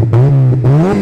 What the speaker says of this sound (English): let's start her up here, what she sounds like